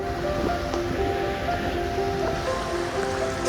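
Sea waves on the beach beside Revdanda Fort on the Konkan coast, whose wall the surf has worn down; a continuous broad wash of surf with wind, steady and fairly close, with no voices.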